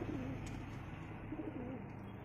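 Pigeons coo low and steadily at close range while a female pigeon is held and handled, the soft murmuring continuing throughout with no voices.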